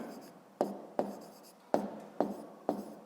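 Pen or pencil writing down a maths answer, a quiet series of five distinct taps and strokes spaced about half a second apart, close and alone.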